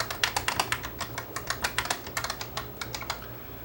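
Keys pressed on a vintage Commodore C108 computer keyboard, heard as a steady run of close, crisp clicking keystrokes in irregular bursts over a low background hum, with no talking.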